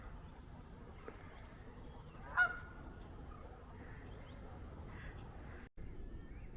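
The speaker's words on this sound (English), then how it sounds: "little family of geese" A small family of geese by a lake gives scattered short honks, faint and somewhat distant, over quiet outdoor ambience with a brief louder call near the middle.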